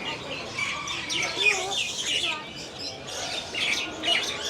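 Busy birdsong with many overlapping chirps and tweets, including budgies, fairly close and continuous, with some faint clucking fowl mixed in.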